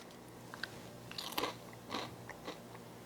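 Freeze-dried carrot chips are bitten and chewed close up, giving several sharp, brittle crunches in quick succession over a quiet room background.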